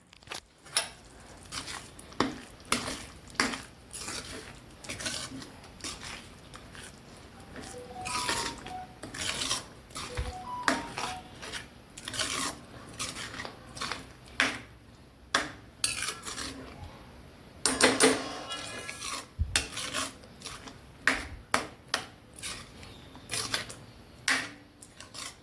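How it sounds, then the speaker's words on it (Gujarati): Paneer capsicum curry ingredients stirred in hot oil in a pan, giving a steady run of scraping, clinking utensil-on-pan strokes at close range, with louder knocks now and then and no talk. "હવે આપણે એની અંદર આ બધું નાખી દઈશું. જો પછી હલાવી દેવાનું છે."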